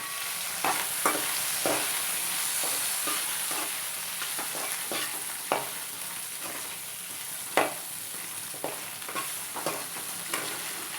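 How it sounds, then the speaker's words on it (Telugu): Green chilies, garlic and turmeric fry in hot oil while a steady sizzle runs underneath and soft stirring scrapes sound at irregular intervals throughout, with no talk. "వేడైన నూనెలో పచ్చిమిర్చి ఇందులో వెల్లుల్లిపాయలు కాస్త పసుపు వేసి బాగా కలుపుకోవాలి"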